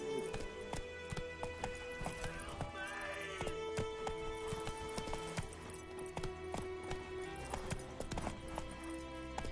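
Roach the horse gallops in The Witcher 3 video game, with steady rhythmic hoofbeats and a brief whinny amid game music, lasting the whole stretch.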